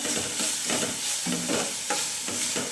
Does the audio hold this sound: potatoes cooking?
yes